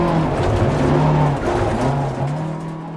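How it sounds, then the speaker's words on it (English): A Lancia rally car tears along a stage in DiRT Rally 2.0, its engine droning loud and continuous with rising and falling revs, gravel-scrabbling tyre noise mixed in throughout. "I'm just trying to push the Lancia to its limits onto that stage, go as fast as I can"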